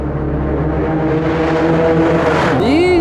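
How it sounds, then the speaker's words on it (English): The experimental hydrogen-powered Toyota GR Yaris Hydrogen high-performance car hums and revs steadily, its engine note rising toward the end as a voice talks over it. "how wonderful a hydrogen-powered high-performance car can sound, maybe you should meet the experimental GR Yaris Hydrogen"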